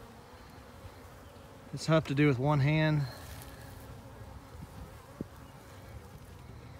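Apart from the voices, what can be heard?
bees buzzing around head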